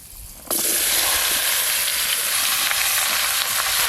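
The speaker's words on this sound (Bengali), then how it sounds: "কেটে ধুয়ে রাখা চাল কুমড়োগুলো দিয়ে দেবো।" Chopped ash gourd hits hot oil seasoned with dried red chilli and five-spice, erupting into a loud, steady sizzle that starts abruptly and holds strong with faint stirring underneath.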